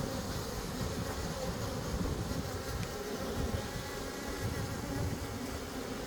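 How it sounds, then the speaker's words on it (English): Honeybees fanning at an apiary make a steady, continuous buzzing hum that stays even and moderately faint throughout, with no talk over it. "the way the little bees are fanning"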